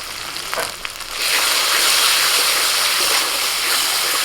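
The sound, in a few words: frying spice paste (masala) in oil for egg curry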